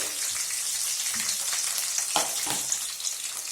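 Dry red chillies and slit green chillies hit hot oil in a pan, setting off a steady, close, hissing sizzle with a few brief stirring scrapes partway through.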